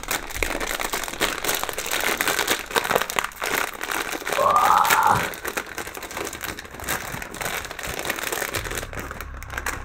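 A Trolli candy bag of gummy eyeballs being torn open, loud close plastic crinkling and crackling that runs continuously for several seconds.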